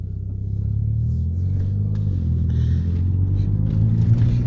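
Volkswagen GTI with its turbo muffler deleted and discharge pipes upgraded pulls away, heard from inside the cabin as a steady, loud low engine rumble that swells slightly as it accelerates.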